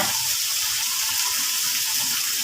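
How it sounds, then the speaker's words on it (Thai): Running tap water gushes steadily into a sink as eggplant and lemongrass are rinsed to wash off salt water, a continuous close hiss with no voices. "พอจะทำแล้วก็ไปล้างน้ำเกลือออกเนี่ย"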